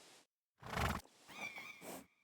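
A horse neighs in the medieval role-playing game Kingdom Come: Deliverance 2, a short loud whinny with harmonic wavering that trails off, heard alone with no talk.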